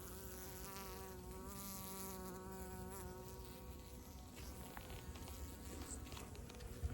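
Bees swarm around an opened beehive, a steady, dense buzzing hum from many insects at close range that continues throughout, with no voices.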